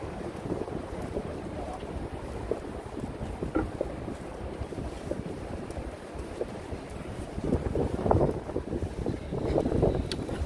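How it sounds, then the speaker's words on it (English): Steady gusting wind rushes and buffets the microphone on Broadway in New York City, a continuous rough roar that swells louder near the end, with no voices. "It is pretty windy."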